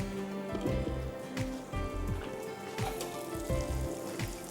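Onions sautéing in a pan for beef tetrazzini, a steady crackling sizzle with dense bubbling texture and repeated low thumps of stirring or the pan shifting, close and continuous with no voices.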